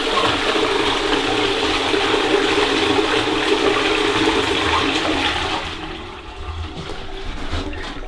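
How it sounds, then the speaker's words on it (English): A toilet being flushed after a limescale-removal treatment: a loud, close rush of swirling water running continuously for several seconds, then tapering into a quieter refill trickle, with no voices. "So we're going to give it a flush and we're going to see if it's cleaned it."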